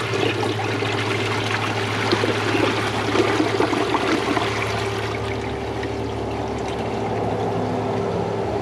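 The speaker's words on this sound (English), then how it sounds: "let's see how it flushes at the same time with the 1998 and 2003 Ingeniums" A 2003 Kohler Wellworth Ingenium toilet flushes alongside a 1998 Ingenium, giving a continuous rushing, gurgling wash of water that fades toward a softer trickle near the end.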